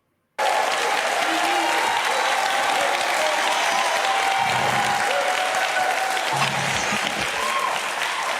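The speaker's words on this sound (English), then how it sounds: "I told them only to applaud once, and that explains the lengthy applause." Sustained audience applause fills a hall at a Detroit mayoral debate, a steady dense roar of clapping that carries on for several seconds, with a faint low hum and a few brief murmurs beneath it.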